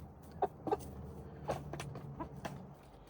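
Backyard chickens clucking in short separate bursts, a few soft calls spread across the moment, fairly faint over low background noise, with no talking.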